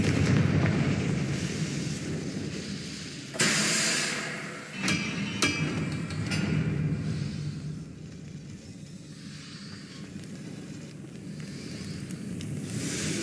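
A Confringo explosive spell bursting in the video game Hogwarts Legacy, a sharp blast followed by crackling debris over a low rumbling game ambience, with no voices.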